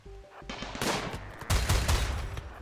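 Gunfire in the video game RimWorld, a burst of rapid crackling shots growing denser and louder, with no speech.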